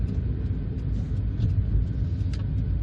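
A 2009 Hyundai i10 1.2 driving through town streets, heard from inside as a steady low engine rumble with road noise, continuous and fairly loud.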